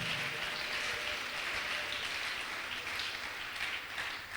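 A church congregation applauding and acclaiming the Lord during a sermon, dense sustained clapping from many people, even and fairly loud throughout with no talk.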